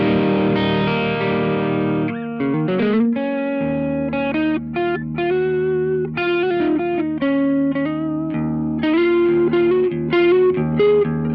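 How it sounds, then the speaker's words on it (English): Electric guitar, a Jazzmaster fitted with Duncan Antiquity pickups, played through an overdrive pedal: loud, sustained distorted chords and picked lines ringing with harmonics, close and continuous with no talking. "this is the usual jazz master with Duncan Antiquity Ones, which sounds a little like this"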